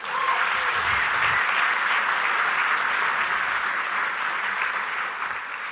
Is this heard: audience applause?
yes